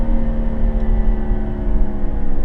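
BMW 640i xDrive (6 Series GT, 2018) engine decelerating, a steady low rumbling drone with faint harmonic whine, continuous and fairly loud throughout without speech.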